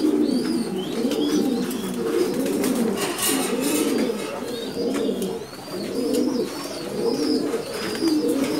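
Many pigeons in a breeding loft coo continuously in overlapping, rolling phrases, close and fairly loud, with faint chirps above and no talk.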